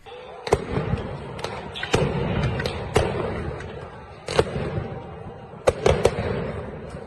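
Stun grenades and gunfire during a clash at Al-Aqsa Mosque, sharp loud bangs and cracks going off irregularly, several close together, over a rough crowd din.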